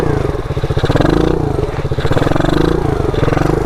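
A 125cc dirt bike engine revs loud and close during stunt practice, a rough, pulsing mid-range drone that surges and dips without pause for the whole stretch.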